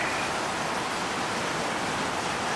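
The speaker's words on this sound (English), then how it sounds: "I ain't seen it rain like this in a pretty good while." Heavy rain pours down in a dense, steady hiss with no pauses, close and loud, with no voices over it.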